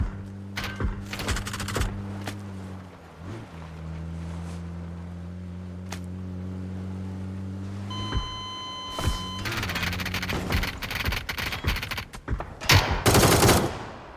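Video game gunfire crackles through several rapid bursts over a steady electronic hum, with bright beeps in the middle and a dense, loud volley near the end.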